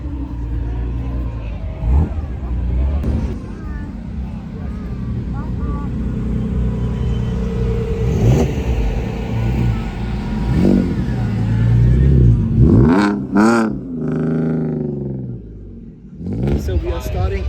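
A Ferrari F8 revs and pulls away outdoors at a car show, its engine rising and surging loudly toward the end amid crowd chatter and nearby talking.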